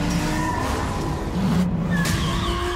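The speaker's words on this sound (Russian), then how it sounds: "Рев двигателя." A car engine roars loudly in a racing game trailer while tires squeal and skid, a continuous close, aggressive drive with rising engine tones and a brief sharp whoosh near the end.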